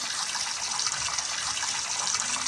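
Shower water runs steadily in the Roblox game Brookhaven RP, a constant hissing spray that holds even and fairly loud throughout with no talking.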